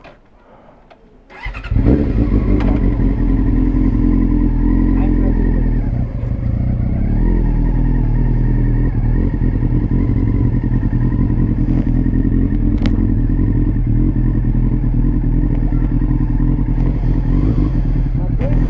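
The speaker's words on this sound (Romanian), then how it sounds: "Și toba criminală. Toba de China." A scooter-style motorcycle fitted with a loud Chinese aftermarket exhaust starts up and idles then revs roughly, close and loud, holding a rumbling drone with clatter throughout.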